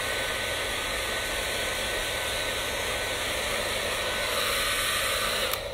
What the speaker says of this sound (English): Ayaw niya ng blower.